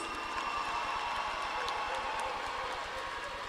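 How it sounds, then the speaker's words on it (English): A large crowd at the Tennessee State University fall 2024 graduation applauds the honor students with sustained, even clapping that fills the arena at a moderate distance, without speech. "Let's give all honor students a round of applause."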